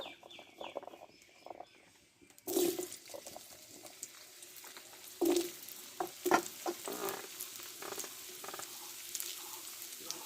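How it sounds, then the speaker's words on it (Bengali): Potatoes fry in a little oil in a kadai with a soft, fairly faint sizzle, punctuated by a few louder stirring knocks and scrapes of a spoon against the metal. "কিছুটা অল্প মাত্র তেল দিয়ে দেবো দিয়ে আগে আলুটা ভালো করে একটু কষে নিব"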